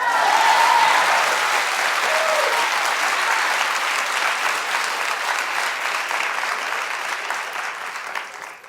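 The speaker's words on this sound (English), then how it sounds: "Excuse me, you can clap and be happy for her." Studio audience of a daytime talk show applauds, a loud, dense and sustained burst of clapping that starts strong and slowly tapers off.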